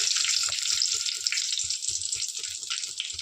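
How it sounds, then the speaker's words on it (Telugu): Garlic hits hot oil for a tempering and fries with a steady, dense sizzle throughout, a close continuous crackle with faint low clatter beneath. "ఆయిల్ అయితే మరుగుతుంది, నేను పెట్టుకున్నాను. ఫస్ట్ వెల్లుల్లిపాయలు వేద్దాం."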